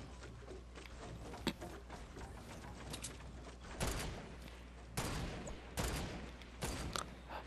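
Gunfire in a multiplayer video game rings out as scattered sharp cracks and short volleys over a constant low background hum, fairly faint and distant.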